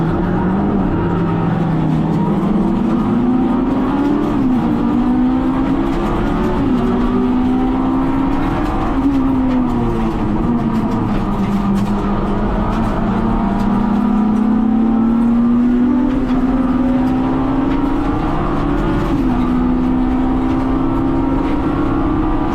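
Race cars in the under 2 litre class lap Bathurst in a close battle, a single engine loud and steady throughout, its droning pitch rising and falling through gear changes as it accelerates and brakes.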